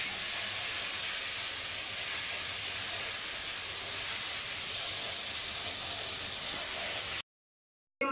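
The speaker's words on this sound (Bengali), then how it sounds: "এখানে আমি একটু জল দিয়ে দিচ্ছি মশলাটা যাতে পুড়ে না যায়।" Water poured into spice paste frying in a pan while cooking green banana, aubergine and hilsa fish, giving a loud, steady hiss of steam and sizzle that lasts about seven seconds before cutting to silence.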